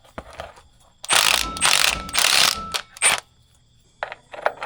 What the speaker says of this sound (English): I'm going to take two of the bolts out that go into the cover